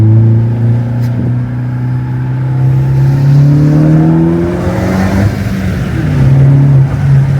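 A 2017 Ford Focus ST with a Borla performance exhaust revs up and down repeatedly, loud and throaty, the pitch rising and falling in long sweeps.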